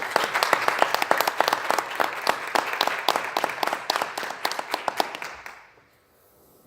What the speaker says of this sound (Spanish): le pido a todos nuestros intervinientes un fuerte aplauso